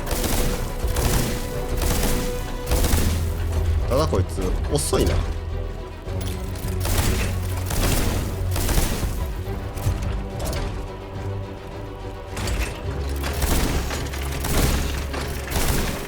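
Projectiles landing and exploding in the video game Steelrising, with repeated booms and cracks layered over game music and effects while someone talks throughout.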